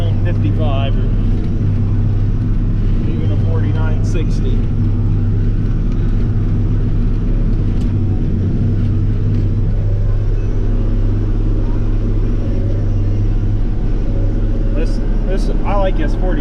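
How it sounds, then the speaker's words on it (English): A John Deere 4640 tractor runs while baling first-cutting hay, giving a steady, loud, low engine drone throughout while someone talks over it. "I like this 4640. It makes a real nice baling tractor."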